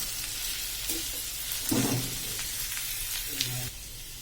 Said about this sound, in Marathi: आता आपले सुरण अजून थोडं कडक आहे ते सॉफ्ट होईपर्यंत आपल्याला होऊ द्यायचं आहे तेलात छान फ्राय